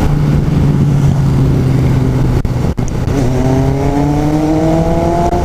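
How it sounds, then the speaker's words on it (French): A Yamaha MT-07 motorcycle is ridden with a loud, steady engine drone close by; after a brief dip the revs climb smoothly as the bike accelerates. "Là, c'est la dernière fois que je roule avec cette moto."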